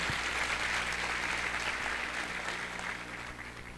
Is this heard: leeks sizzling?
no